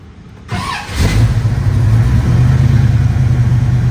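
A 1969 Chevrolet Camaro engine cold-starts without pedal pumping: a brief starter crank, then the V8 catches with a loud rising roar and settles into a steady, rumbling idle, close and with no talk.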